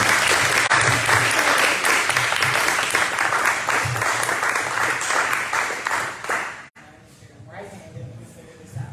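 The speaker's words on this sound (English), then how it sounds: "let's give a warm round of applause to TBuzz" A morning event audience gives a warm round of applause, loud sustained clapping and cheering for several seconds that cuts off abruptly, then a voice begins speaking over a quiet room.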